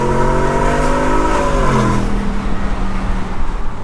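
Shelby F150 truck with newly installed headers and V-band exhaust, its 5.0 engine revving up then dropping back to a steady idle rumble, close and fairly loud, no talking.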